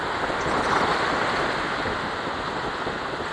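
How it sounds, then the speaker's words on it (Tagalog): Steady rushing wind with the broad hiss of heavy gusty rain at a pig farm, loud and constant, buffeting the microphone with slight gusts and no voices. "Bugso-bugso na ulan at hangin."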